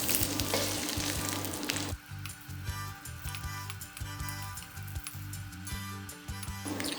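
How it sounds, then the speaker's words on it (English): Ginger stir-frying in hot oil, a dense crackling sizzle close to the ear with a faint recurring scrape of a spatula, no voices. "When the oil is hot, stir fry your ginger."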